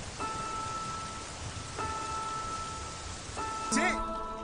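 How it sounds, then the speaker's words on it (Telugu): Rain falling steadily during an indoor Telugu film scene, a dense even hiss that runs throughout, with soft ringing musical tones layered over it and a brief brighter chime near the end. "వర్షం తగ్గిన తర్వాత వెళ్ళు."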